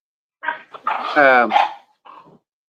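Olde English Bulldogge puppies bark and yelp close by in a short burst of a few loud barks, ending with a softer whimpering yip.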